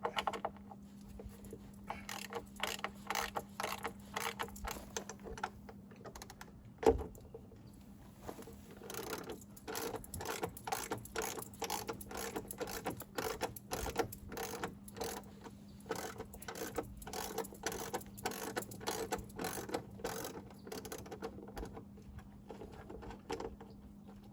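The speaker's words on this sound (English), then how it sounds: "To take off these two bolts, we need a 12mm socket." A ratchet with a 12mm socket works bolts loose on a Kubota SLV75 air conditioning cover, producing long runs of rapid, faint clicking with a brief clunk partway through, no speech.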